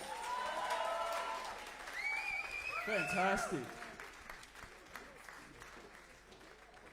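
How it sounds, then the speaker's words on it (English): Crowd applause for the bands at a youth rock contest semi-final, a broad clapping wash running beneath a host's amplified voice speaking over it. "Big round of applause for all the bands tonight."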